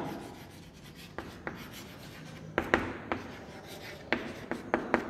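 Pen or pencil writing out the multiples of 5 in a maths lesson, heard as quiet scratchy strokes broken by several sharp taps and clicks of the tip against paper, close and alone without talk.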